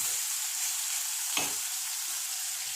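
Curry leaves and salt frying in a pan give a steady, close hiss of hot oil with one short crackling burst partway through, and no voices are heard.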